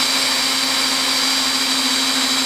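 A handheld drill bores freehand into metal, without a drill press, making a continuous, loud, even motor whine with a steady pitch throughout and no speech over it.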